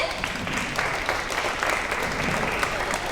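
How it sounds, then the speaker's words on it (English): Parents and families at an elementary school second grade promotion clap steadily for dance team members, a continuous moderate round of audience applause with faint voices underneath. "Oh, you can clap for them, yes."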